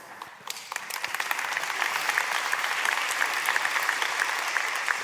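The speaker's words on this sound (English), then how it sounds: "It's a funny thing to applaud." Audience applause fills a lecture hall, dense clapping rising quickly after a brief quiet start and holding steady and fairly loud throughout.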